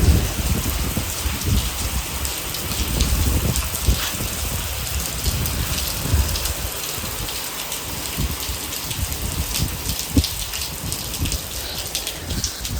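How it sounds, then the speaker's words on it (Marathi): Heavy rain pours steadily in a dense, loud hiss on surfaces, with a deep rumble suggesting thunder, and no one speaks. "इथं लय काय खतरनाक बघा पाऊस"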